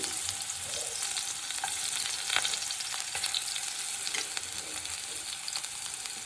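Oil sizzles and crackles steadily in a pan as dried red chili, shallots and coconut pieces fry, with scattered scraping clicks from stirring throughout.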